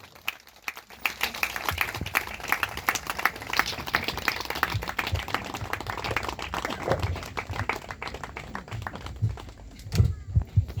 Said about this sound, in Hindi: जोर से ताली मारते रहा, खड़ा खड़ा के आदर देवा।